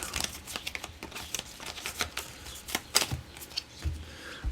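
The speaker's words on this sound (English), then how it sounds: "let's shuffle these up real quick" A deck of game cards is shuffled by hand, giving quick papery riffles and slaps in an uneven rhythm, close and alone without talk.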